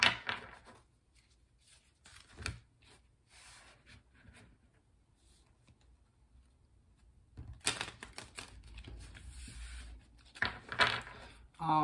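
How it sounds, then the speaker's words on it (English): Tarot cards riffle and slide in a couple of brisk bursts, separated by quieter rustling and handling of the deck. "let's continue and do some shuffling so we can pull 4 tarot cards for the day"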